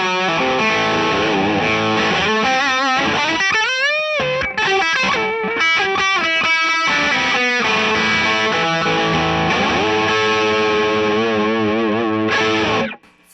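Electric guitar played through a VP4 shred distortion preset into a Two Rock amp, thick saturated sustained notes and bends ringing continuously and loud, with no talking, cutting off abruptly at the end.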